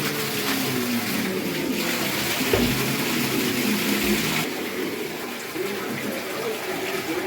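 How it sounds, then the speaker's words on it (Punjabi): Water runs steadily into a water cooler, a constant gushing splash with a slight shift in tone partway through, no voices. "ਵਾਟਰ ਕੂਲਰ ਭਰ ਲੈਨੇ ਆ"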